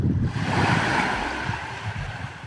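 Ocean waves wash steadily along the Mexican coast, a broad continuous surf roar with wind buffeting, close and fairly loud, no voices.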